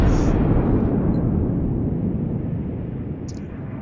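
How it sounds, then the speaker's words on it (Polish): A heavy battleship main gun blast from the Yamato in the video game World of Warships fades into a long, loud rumbling roar that dies away gradually. "Pierwszy strzał oddany tak na rozgrzanie luf."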